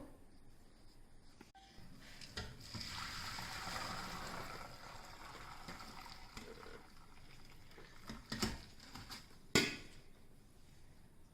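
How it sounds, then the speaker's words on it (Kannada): Water from boiled Hakka noodles pours through a strainer, making a steady rushing splash that rises and then eases off, with a few sharp clanks of a pot or strainer near the end. "ಇದು ನಾವು ನೀರು ಸ್ಟ್ರೈನ್ ಮಾಡ್ಕೊಳ್ಬೇಕು."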